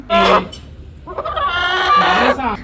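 A pet chicken clucks and squawks loudly and close before being slaughtered, with a short burst followed by a longer, agitated run of calls.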